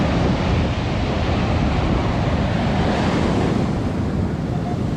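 Ocean surf rolling onto a Florida beach, a continuous loud wash of breaking waves with wind buffeting the microphone throughout, no voices.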